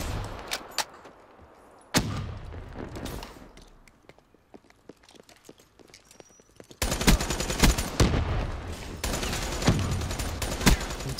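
Gunfire in a first-person shooter ground war match, scattered sharp shots at first, then dense automatic bursts from close by, loud and continuous.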